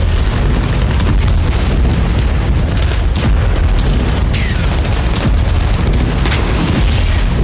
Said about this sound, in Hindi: यूक्रेन ने सेवेस्तोपोल में भी बड़ा विस्फोट किया